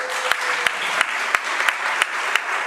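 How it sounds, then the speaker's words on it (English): Audience applause at a city council proclamations meeting, honoring the parents of a youth group: steady clapping from a room of people, fairly close and continuous, with a few louder individual claps standing out. "let's clap it up for your parents."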